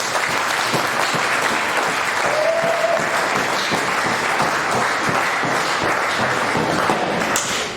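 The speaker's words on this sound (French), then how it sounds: "Pour lui dire merci, je vous invite à, comme d'habitude, pas applaudir l'oiseau qui a ramené l'enfant, mais applaudir Pichi Banda." Audience applause at a jubilee celebration of a diocese in Tshilomba, a dense, sustained clapping from a large crowd, loud and steady throughout with a brief faint ping in the middle.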